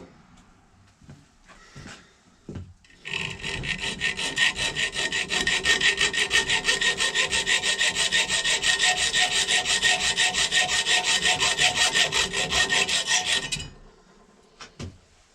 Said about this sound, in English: a hacksaw.